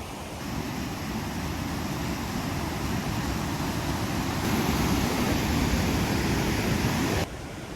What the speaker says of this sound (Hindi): ये तोश वाला वाटरफॉल है।